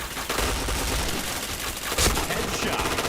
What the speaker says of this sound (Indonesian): Astaga, nggak kena aku nembak.